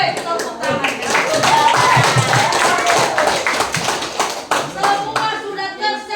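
An audience of school students at an information session claps their hands in a loud, dense burst of sharp claps that tapers into scattered individual claps toward the end.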